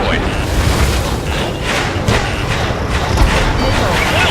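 A target blows up in the Ace Combat 7 jet combat game, giving a dense, rumbling explosion that roars steadily for a few seconds amid continuous in-game noise.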